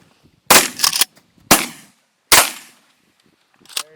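Shotgun blasts fired at pigeons while hunting: three sharp, loud reports about a second apart, the first a quick double, each ringing briefly, followed by a fainter fourth shot at the end.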